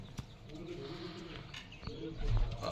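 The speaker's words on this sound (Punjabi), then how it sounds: "ਲਕਾ ਕਬੂਤਰ ਆਪਣਾ ਆਹ ਦੇਖੋ ਬਾਈ ਕਾਲੇ ਲਕੇ" A black Lakka pigeon coos softly close by in a few low, throaty calls, with faint rustling and handling noises around it.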